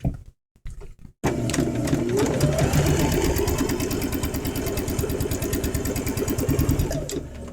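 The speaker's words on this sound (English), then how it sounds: "you're going to sew up one side and come back down the other" Sewing machine stitching a quilt block seam, starting after a brief pause with a few short bursts, then running at a fast, steady rhythmic whir for several seconds before slowing at the end.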